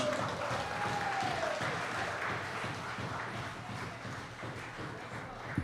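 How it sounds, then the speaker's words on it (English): An audience claps after a speech at a zonal meeting held at an Anglican school. The applause is steady and fairly dense from start to finish, with a brief rising tone near the start. "Let's hear some more claps for him"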